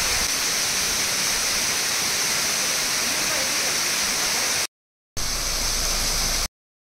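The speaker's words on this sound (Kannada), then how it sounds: "enjoying the ಜರಿಮನೆ falls" Jarimane Falls in monsoon flood gives a dense, constant roar of rushing water, loud and unbroken, cut off briefly twice near the end.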